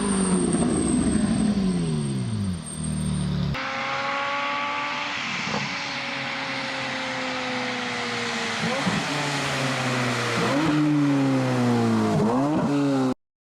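A Chevrolet Corvette C8 Z06 with a flat-plane crank V8 revs loudly and climbs through the gears, pitch rising in repeated sweeps with brief drops at each shift, close and continuous until it cuts off abruptly.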